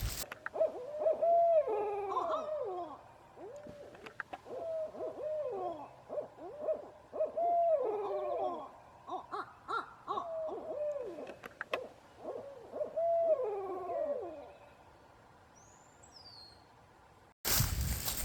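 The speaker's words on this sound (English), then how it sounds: "Have any of you ever heard owls mating in the middle of the night?" Owls hooting at night during mating, repeated quavering calls in a rhythmic series of phrases, fairly close and clear against a quiet background, with a sharp noise burst at the very end.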